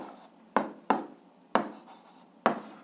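Pen strokes on paper while writing out a kinetic energy equation, with four or five short, distinct scratchy taps spaced irregularly, close up and quiet.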